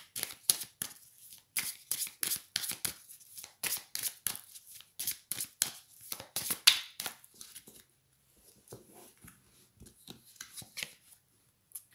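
A deck of oracle cards is shuffled and drawn: quick, rhythmic riffling and slapping bursts close up for several seconds, then softer sliding and tapping as cards are laid out.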